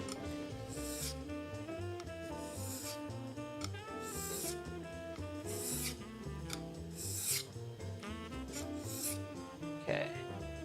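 Dirt is scrubbed off a hand plane blade with repeated rhythmic abrasive strokes, each a gritty, close rasping sweep against the steel, steady and alone.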